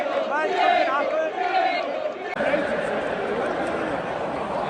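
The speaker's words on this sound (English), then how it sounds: "you can hear the crowd" A football stadium crowd at West Ham against Wolves roars and chants loudly and continuously, with shouting voices close by on top.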